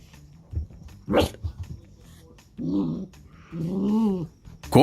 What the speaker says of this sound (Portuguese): Seu cachorro também reage assim a brinquedos que apitam?